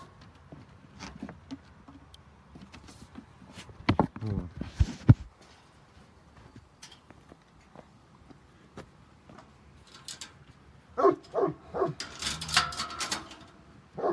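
Dogs whimpering, yipping and barking in sporadic bursts close by, with scratchy patter and someone talking quietly between them.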